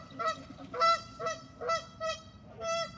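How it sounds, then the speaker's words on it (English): Geese honk loudly outdoors in a run of about five rhythmic, nasal calls, close by and with no talking over them. "The geese are wilding out right now."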